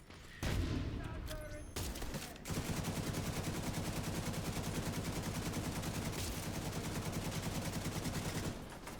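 Sustained rapid gunfire aimed at turrets in the video game The Division 2, loud and continuous automatic bursts after a few opening shots, running almost unbroken for several seconds.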